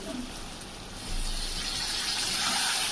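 Water pours into a pan of frying spices for dhaba-style chicken curry, and the hiss and rush swell and hold steady after a moment, close and fairly loud.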